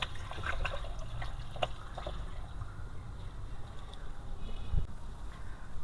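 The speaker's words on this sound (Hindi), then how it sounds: "मैं इसमें पानी शामिल करूँगा। पानी आपने प्रेशर कुकर भर के जो है ना वो ले लेना है।" Water pouring and trickling into a pressure cooker holding beef paya for a Lahori recipe, a soft continuous liquid sound with a few faint clinks.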